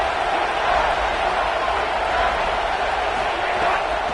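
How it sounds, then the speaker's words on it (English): A football stadium crowd roars steadily behind its defense during a red-zone stand on third down, a dense, continuous wall of cheering with little rise or fall that sits under faint commentary. "The crowd getting behind this defense as they try to get a stop in the red zone."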